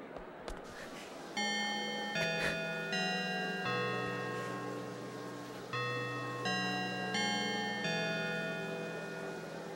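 In the PS2 game Blood: The Last Vampire, a bell-like chime rings out a slow melodic sequence of clear, ringing tones, each note sustaining and overlapping the next, with soft ambient noise beneath.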